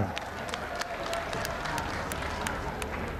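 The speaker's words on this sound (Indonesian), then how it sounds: "Tepuk tangan untuk baru regar" Audience applause at a Batak traditional ceremony, a moderate, steady patter of many hands clapping with scattered sharper claps standing out.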